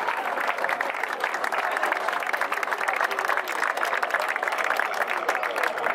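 A crowd at an outdoor protest rally against a gas hub in Sulmona applauds, with dense, sustained clapping spread over a wide area and steady for six seconds, plus faint crowd murmur.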